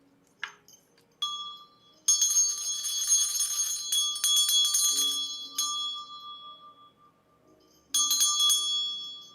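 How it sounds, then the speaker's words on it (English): A small hand bell rung in a quiet room, several bright metallic strikes with long shimmering decay, a couple of short taps first, then sustained ringing and a final struck ring that fades. "I'm going to ring my bell"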